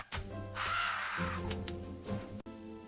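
A crow caws a few times, harsh and close, over a musical backing.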